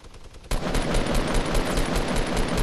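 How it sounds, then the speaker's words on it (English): Minigun in the Fortnite video game opens up with sustained rapid automatic fire, loud and continuous after a brief quieter lead-in. "Use your minigun, blow that fort out."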